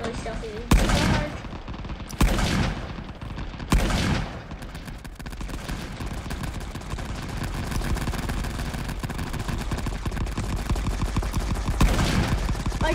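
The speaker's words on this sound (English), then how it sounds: "my guys are just getting minigunned" Minigun fire in the video game Rising Front, dense sustained bursts of rapid gunfire with a few sharp loud blasts early on, rattling continuously and close, with occasional talk beneath.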